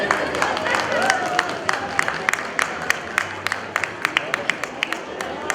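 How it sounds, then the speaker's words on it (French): An audience at the Festival Interculturel Saint Amable applauds dancers who performed the Peruvian marinera, with sharp scattered claps over a murmuring crowd that thin out toward the end. "On les applaudit fort, s'il vous plaît."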